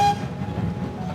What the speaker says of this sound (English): these beautiful old carriages and the steam locomotives, that's what people really want to come and enjoy